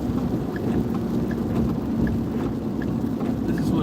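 Steady rain and a low thunderstorm rumble heard from a car driving on a dark, unlit road at night, a continuous wash of rainfall with a deep rolling undertone.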